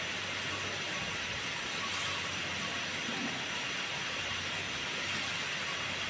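Cleaned shrimp hit a pan of cooked-down spice paste in a home-style curry with Malabar spinach and pumpkin, giving a steady, soft, hissing sizzle that holds evenly throughout.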